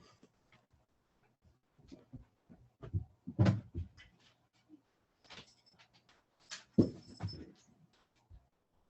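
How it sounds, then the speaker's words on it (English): A pet dog being let outside makes soft whimpers and shuffling, with scattered door and cupboard knocks and clatters in a quiet indoor room. "I'm gonna go let my dog out."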